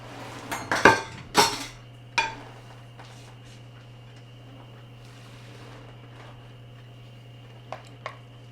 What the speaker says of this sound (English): So we're going to carefully spoon this out, keeping all these layers separate.